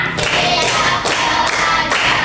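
Schoolchildren in a class clap together five times in a quick, even rhythm. Each clap is loud and near, with a low murmur of voices underneath.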